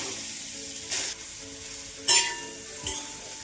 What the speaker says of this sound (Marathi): बीट परतून घ्यायचंय आता छान आपल्याला 5 मिनिटासाठी।